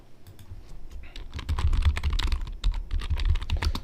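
Rapid clicking of computer keys being typed on, close up, in quick irregular bursts with short pauses, no voices.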